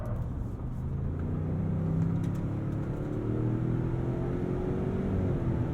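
A 2022 Ford Expedition Stealth SUV brakes hard and turns in during a handling test, heard as a steady low engine rumble and road drone with a faint rising tone. The sound stays continuous and moderately loud throughout, with no voices.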